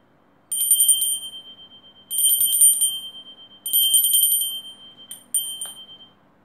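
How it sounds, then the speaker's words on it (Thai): A ritual hand bell rings during an aarti offering to Ganesha, struck in three sustained bright bursts of rapid ringing with pauses between, then a brief final shake, loud and close. "ทำอารตีถวายระฆังนะคะกับองค์พระพิฆเนศ"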